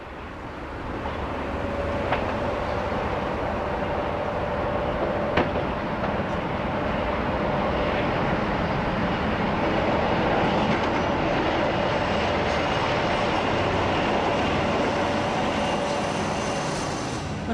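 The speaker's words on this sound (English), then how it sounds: "The 47, diesel's equivalent of the Black 5, seen here scurrying away from Eastleigh like a bat out of hell" Class 47 diesel locomotive pulling away from Eastleigh, a steady, distant roar of engine and rolling wheels holding for the whole stretch, with a faint tonal hum running through it.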